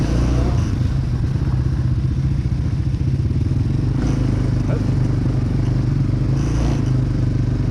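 ATV engine droning steadily while riding off-road, with rattling clatter and occasional thumps over rough ground.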